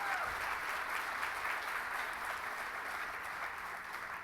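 Applause from a large audience at an opening plenary session, a broad, steady wash of clapping heard at a distance, even in loudness throughout.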